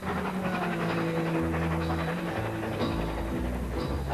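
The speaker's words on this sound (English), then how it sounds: "how fantastic it feels to be pulled by a real steam engine" A steam train on the Keighley and Worth Valley Railway in Yorkshire rumbles and rattles steadily with hissing, heard from inside a carriage at moderate, continuous level.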